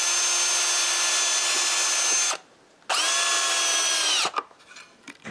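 Power drill boring screw holes in a wooden camera mounting plate, two loud sustained whirring bursts separated by a brief pause, followed by faint handling clatter.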